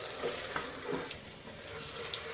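Food fries in a pan with a steady sizzle under occasional scraping stirs, close and continuous with no talk.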